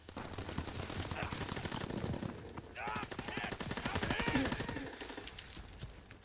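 Rapid gunfire from a Call of Duty WWII online match rattles in bursts at moderate distance, mixed with other game sounds and some voice chat underneath.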